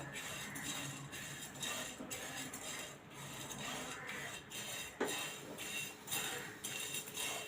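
Cumin, coriander, fennel and black peppercorns being dry roasted in a pan, with steady scraping and rustling as the whole spices are stirred and shuffled, plus light clinks of the utensil against the pan.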